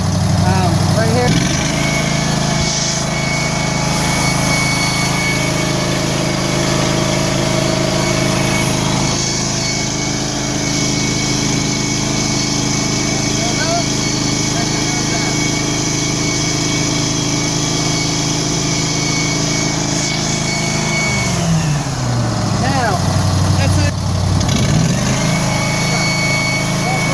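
The engine of a carpet cleaning machine runs steadily and loudly at close range for the whole stretch, shifting pitch briefly near the end as the load changes, with someone talking over it.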